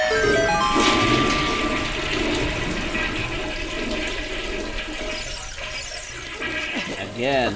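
Toilet flush sound effect from the video game The Legend of Zelda: Ocarina of Time, a loud gushing swirl that tapers off, with game music and tones mixed in.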